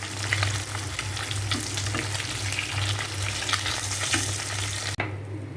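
Fish pieces frying in hot oil in a pan, a steady crackling sizzle with a low hum underneath, continuous and close, cutting off abruptly near the end.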